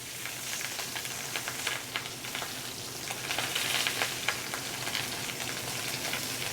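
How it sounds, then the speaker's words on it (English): Steak searing fat side down in an oiled pan to render the beef fat: loud, dense sizzling and spattering crackle that runs continuously and swells slightly midway, with no voices. "we're going to start searing the steak on the fat side just to get some of that beef fat rendered out"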